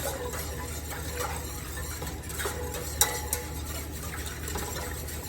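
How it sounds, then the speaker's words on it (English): A whisk stirring cherry jelly mixture in a pot, a quiet continuous swishing with a few light clicks of metal against the pot, no talking. "So that's when I'm going to come in with a whisk to start, okay?"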